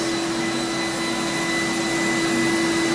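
A Titan Cap Spray 115 HVLP paint sprayer runs close by with a steady, loud turbine whine and airy hiss, unbroken and with no voices.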